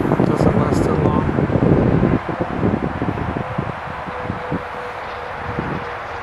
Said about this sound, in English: windy for sure